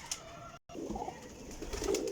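Large flying pigeons perched together in Jhelum coo softly and steadily over a low background, with a brief dropout near the start before the cooing resumes close by.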